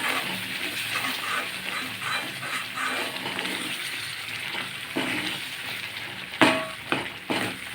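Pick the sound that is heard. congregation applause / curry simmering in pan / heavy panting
curry simmering in pan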